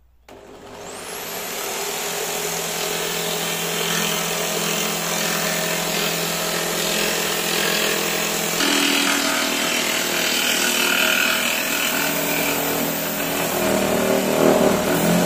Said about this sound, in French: je prends la scie sauteuse et je vais découper ça